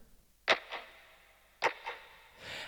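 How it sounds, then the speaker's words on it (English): Lo-fi, clock-like snare drum in a pop song production, two crisp ticking hits each followed by a softer echoing tap, fairly quiet and alone. "it's like a little clock type snare"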